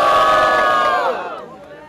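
Crowd at a rap battle in Botafogo cheering and shouting loudly in a dense, sustained roar that fades out toward the end.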